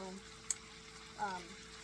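Bacon frying in a pan, a faint low sizzle with a brief crackle and a short burst of popping, quiet and close, with some speech-like sound faintly present.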